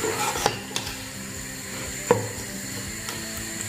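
Vegetables being stir-fried in a pan with soy sauce and chili sauce for egg fried rice: a soft, steady sizzle with a few sharp clinks of a utensil against the pan, close and moderately quiet, no talking.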